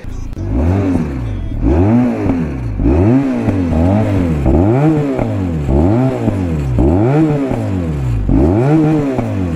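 A twin-cylinder cruiser motorcycle engine with its stock exhaust revs up and down repeatedly in a steady rhythm, loud and close, its throaty exhaust note rising and falling about eight times.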